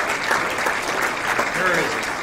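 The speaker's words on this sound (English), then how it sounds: "Let's give a nice round of applause to Mike Durley." Applause breaks out from an audience at the 2015 El Paso Athletic Hall of Fame ceremony, steady clapping from many hands with voices mixed in.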